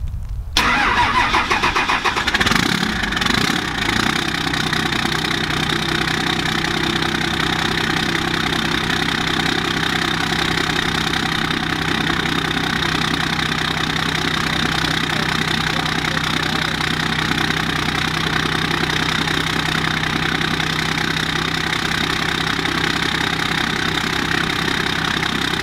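A 12-valve Cummins diesel in a five-speed dually truck cranks and fires from cold, then settles into a loud, steady, rough idle that runs unbroken in snowy conditions, with no talk over it.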